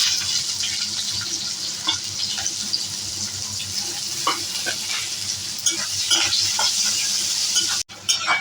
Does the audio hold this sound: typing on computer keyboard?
no